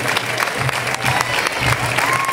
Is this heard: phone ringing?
no